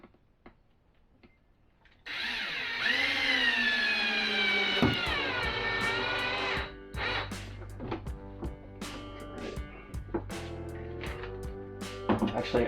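A power drill whines for several seconds as it drives a screw into a vintage camper, followed by clattering handling noises and light ticks nearby.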